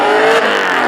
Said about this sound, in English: Wade has a big old LS in this S14 here.